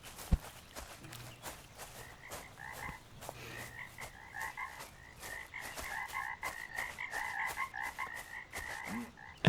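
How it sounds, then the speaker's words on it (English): Frogs croak in a swamp in a fishing video game, repeated rhythmic calls that layer into a dense chorus and grow busier toward the end, with a few soft knocks in the background. "I hear a lot of frogs."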